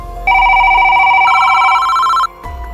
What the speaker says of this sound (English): Jake, that's a phone